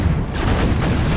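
Continuous battlefield gunfire from units in the real-time strategy game Command & Conquer Generals, a loud, dense barrage of overlapping shots and booms with no pause throughout.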